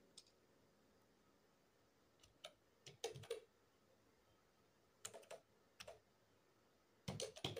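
Keys on a computer keyboard are typed in short bursts while data goes into an Excel form, and the taps are close and crisp with quiet pauses in between.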